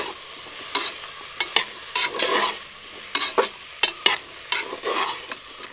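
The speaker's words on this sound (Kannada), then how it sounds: "ಎಲ್ಲ ತರಕಾರಿ ಕೂಡ ಚೆನ್ನಾಗಿ ಫ್ರೈ ಆಗಬೇಕು." Chopped vegetables frying in a pan for pulao, a soft steady sizzle broken by sharp scrapes and clinks of a spatula stirring at uneven intervals, close up with no talk.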